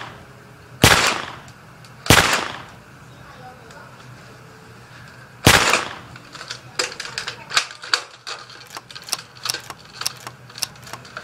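Gunshot sound effects from a phone gun movie effects app: three sharp, loud blasts spaced a few seconds apart, followed by a quicker rattling run of lighter snapping shots.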